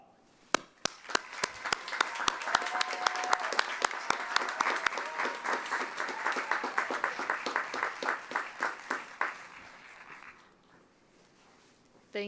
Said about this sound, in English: give yourselves and those who supported you on this journey a round of applause